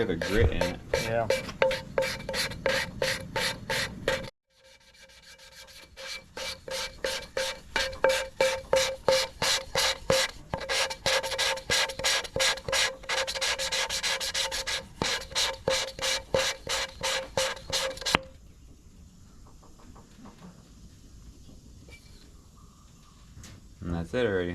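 A worn, slightly pitted engine valve is lapped against its seat with gritty grinding compound, giving a close, rhythmic rasping scratch in quick back-and-forth strokes, briefly pausing near the start and fading to a quieter texture near the end.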